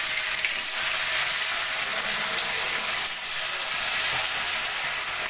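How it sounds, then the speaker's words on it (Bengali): Fish pieces frying in hot oil in a wok for a Bengali fish curry, giving a steady, bright sizzling hiss with faint crackles throughout and no talking. "মাছটা কড়াইতে ছাড়া হয়ে গেছে,"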